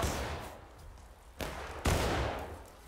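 In the Civil War video game War of Rights, musket gunfire crackles through a distant, rumbling battlefield din, with two louder, sharp shots standing out about half a second apart.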